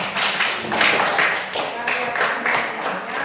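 A primary school class in a religious education lesson clapping their hands together, a quick run of close, loud claps in uneven bursts with a few gaps.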